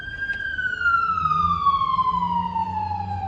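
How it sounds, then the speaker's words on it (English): An emergency vehicle siren wails on a Brooklyn street, a single long, steady tone slowly falling in pitch, fairly close and loud over low traffic rumble. "of course, Brooklyn Sirens."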